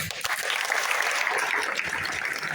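Loud, dense applause from an audience gathered in a hall for a stage event, steady and continuous throughout with no break.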